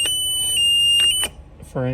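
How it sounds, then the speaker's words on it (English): A cable break alarm on a control panel sounds as a steady, piercing electronic tone that holds for over a second, cuts off, then a voice begins speaking close by. "so now we get a cable break alarm right here"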